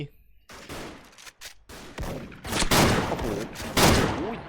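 Rapid bursts of gunfire crackle in a shooting video game, several loud volleys and single shots in quick succession with brief gaps.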